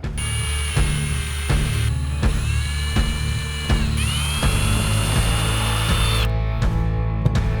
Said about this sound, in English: Then I take this sucker back off and just drill them out by hand.